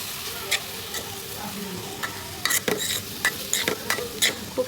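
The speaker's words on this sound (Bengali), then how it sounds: "এবার হালকা একটু নেড়ে চেড়ে নেব।" Vermicelli (semai) frying in a pan and being stirred gently, a low sizzle punctuated by a run of quick scraping clicks of the spatula, heavier toward the end, with no talking.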